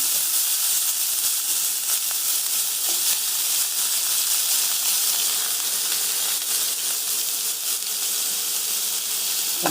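Curry leaves crackle in hot oil with mustard seeds in a kadai for a drumstick and brinjal kara kuzhambu, a bright, steady, close hiss with occasional soft pops.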